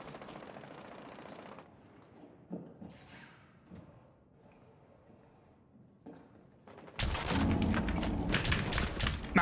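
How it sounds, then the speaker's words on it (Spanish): A shotgun in a video game fires a loud, sustained barrage in the final few seconds, after a quiet stretch of faint scattered thuds and clicks. "Madre mía, esta escopeta es Dios."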